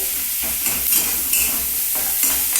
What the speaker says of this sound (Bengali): এখানে পেঁয়াজটা আমার একটু ভাজা ভাজা হতে থাকুক